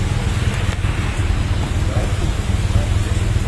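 Steady rain pours down outdoors during a boxing training session, a dense continuous wash of noise with low rumbling underneath and no clear voices.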